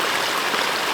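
Rainwater runs steadily down a channel into a creek, a close, continuous rushing trickle with no pauses and no voices.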